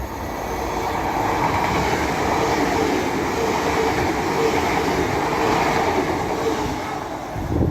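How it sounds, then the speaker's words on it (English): A Transpennine IET class 802 train, running from Liverpool Lime Street to Newcastle, passes at speed through Castleton with a loud, steady roar of wheels and motors that holds for the whole stretch without any voices. "The next train to give it the beans is a Transpennine IET 802 from Liverpool Lime Street to Newcastle"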